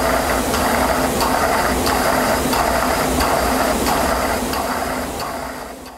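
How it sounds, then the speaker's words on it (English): A RAM EDM machine makes a rough cut as the electrode sparks to the workpiece, giving a loud continuous buzzing crackle with regular faint ticking pulses about every half second. "This now is a rough cut, so the entire electrode, sparks are leaving the electrode to the workpiece."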